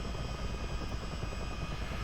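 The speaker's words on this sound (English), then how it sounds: "Both engines are now going into flight mode." A CH-47 Chinook's twin engines spool into flight mode, giving a loud, steady, close rotor and turbine roar that holds evenly throughout with no talking.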